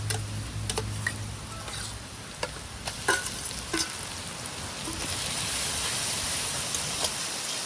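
Catla fish oil with roe frying in a pan with onions, a steady close sizzle with occasional stirring clicks and ticks running throughout, with no talking.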